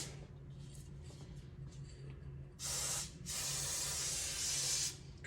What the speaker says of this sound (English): Spray a little more in there.